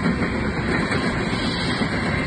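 BNSF coal train, the 25th Anniversary locomotive #6017, rumbles past with steady loud broadband roar and faint wheel clatter, continuous throughout with no voices.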